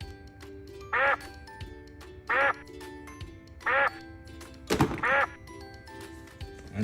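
Four distinct squeaky quacks from a big yellow toy duck with an orange beak, evenly spaced at moderate loudness over a faint background hum, with a fifth call slightly doubled near the end.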